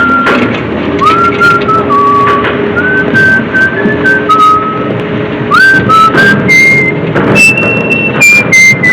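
A sailor whistles a wandering tune aboard a ship in the film Morituri, with sustained notes and slides, steady and fairly close, over a low rumbling background.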